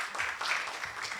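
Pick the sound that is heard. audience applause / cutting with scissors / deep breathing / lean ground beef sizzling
audience applause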